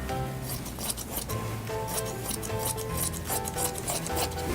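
Scissors trim excess fabric from a draped skirt with a run of soft, close snips and rasping rubs, against a faint steady tonal background.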